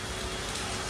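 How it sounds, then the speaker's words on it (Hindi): Heavy rain pours in a steady, dense hiss, close and loud, filling the whole moment without any break and with no one speaking. "आज ही इतना जोर से बारिश हो रहा है"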